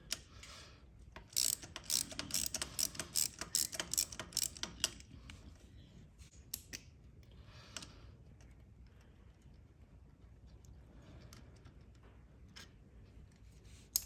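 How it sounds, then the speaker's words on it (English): A ratchet clicks rapidly in close, quick bursts while loosening a 10mm bolt on the shift lever of a 2022 Honda CRF110F motorcycle, then fades to faint handling sounds. "Next up, you'll need to remove this 10mm bolt holding on the shift lever."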